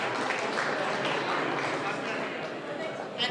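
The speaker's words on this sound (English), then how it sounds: "A round of applause for Shubha Chaudhary ji" An audience claps for an award recipient at a mental health awareness fundraiser, a steady, fairly faint wash of applause lasting a few seconds with no clear break.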